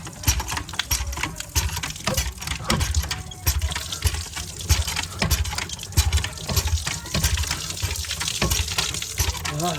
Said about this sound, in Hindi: तो हम हैंड पंप से नहाएंगे।